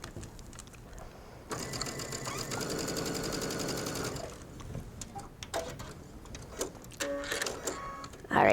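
A sewing machine stitches mesh fabric in one close, rapid run of a few seconds, followed by quieter handling sounds and brief clicks.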